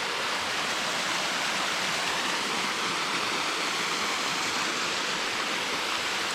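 Kakawayan Falls in Infanta, Quezon pours in a constant, full-bodied roar of falling water, a steady broadband rush with no voices, unchanging throughout.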